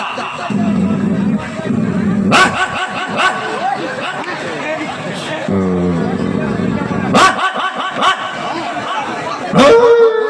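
A human voice mimics a dog, giving several short barks and yips spaced apart, mixed with background chatter.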